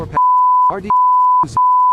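Three long steady electronic alert tones, each about half a second, separated by short bursts of voice, repeating at an even rhythm, loud and clean.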